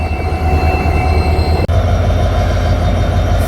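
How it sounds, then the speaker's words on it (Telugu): A WDP4D diesel locomotive pulls a passenger train near the Pamban Bridge route, its steady low engine drone and rail rumble continuous and close, with a brief dropout midway. "ఇదే మన ట్రైన్ని పుల్ చేసే లోకో"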